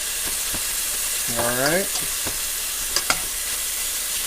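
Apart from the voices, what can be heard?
bacon sizzling while frying in a pan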